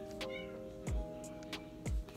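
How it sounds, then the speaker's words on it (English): A cat meows several times at moderate distance indoors, short repeated cries spaced about a second apart over a faint background hum. "It's my cat."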